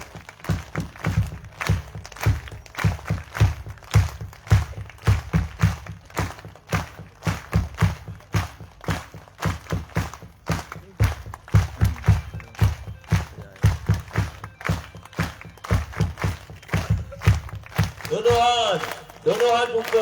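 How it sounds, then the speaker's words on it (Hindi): A devotional group claps hands in a steady, even rhythm throughout, many palms striking together with a bright repeated beat, with brief voices near the end. "ये माँ के नाम की ताली, हरि के नाम की ताली।"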